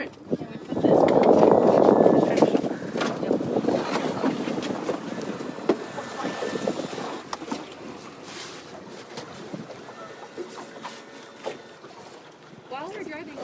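A small boat motors across open water during fieldwork netting minnows, its loud engine and hull rush strongest at the start, then settling into a steady wash with wind buffeting the microphone.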